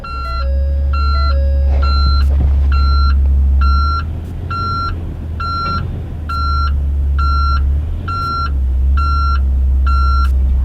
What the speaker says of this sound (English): I'm going to back the truck up and get it away.